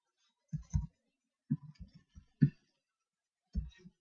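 Typing on a computer keyboard: a few faint, sparse keystroke clicks in small irregular clusters, quiet and close, with no talking.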